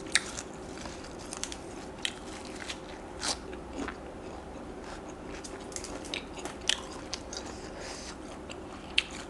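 Close, crisp crunching and chewing of grilled shrimp served with seafood dipping sauce and fresh vegetables, with irregular sharp bites and wet chewing, steady and nearby with no talking.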